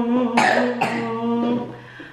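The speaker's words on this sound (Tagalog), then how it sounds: "Si ate naman ngayon ang inuubo." A girl coughs twice in quick, harsh, close bursts, ending with a softer throat-clearing.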